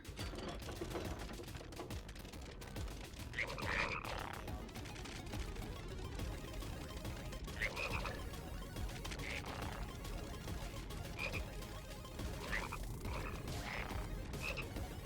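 A frog in Final Fantasy 7 Rebirth croaks in short, separate bursts, about six of them spread over steady background game noise.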